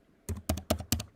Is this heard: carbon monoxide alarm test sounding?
no